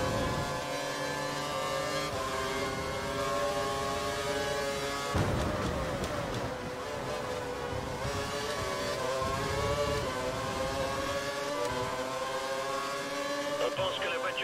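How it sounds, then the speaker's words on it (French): Formula 1 car engines from the racing video game F1 2012 on a Turkey circuit, high whining tones that climb and shift with gear changes, sustained throughout, with someone talking over them. "On pense que la voiture devant ne fait pas tourner son moteur à fond."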